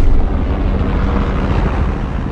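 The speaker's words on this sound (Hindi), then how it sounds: "हेलीकॉप्टर लैंड करो" A helicopter comes in to land: a loud, continuous rotor and engine roar mixed with wind rumble holds throughout, heard close with no speech over it.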